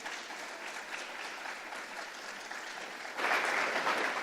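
Audience applause at a book awards festival, a steady wash of many hands clapping throughout that swells louder near the end.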